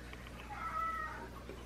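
A house cat gives one soft, fairly faint meow in a home kitchen while pizza is being made.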